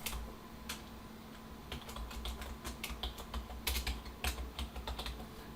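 Someone types a subdomain name on a computer keyboard while setting up a site, producing close, irregular key clicks in quick bursts and short runs, with no one speaking.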